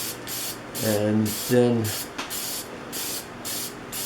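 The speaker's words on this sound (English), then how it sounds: "I'm gonna hit this with some spray lacquer, maybe several coats" Spray lacquer hisses in a series of short, even bursts onto a wooden four-way flower turned on a lathe, close by, while someone speaks briefly between the sprays.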